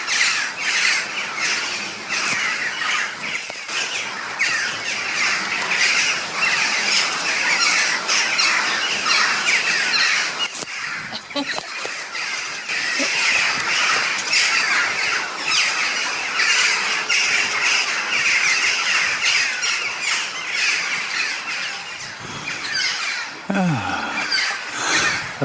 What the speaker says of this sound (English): Lots of excited bird sounds here in Chalgarth.